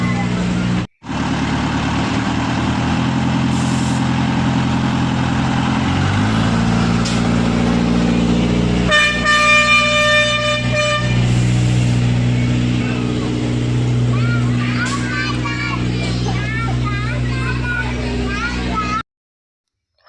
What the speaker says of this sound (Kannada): ಅವರು ಹಾರನ್ ಕೂಡ ಮಾಡ್ತಾ ಇದ್ದಾರೆ.